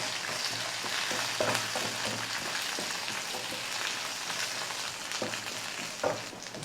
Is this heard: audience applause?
no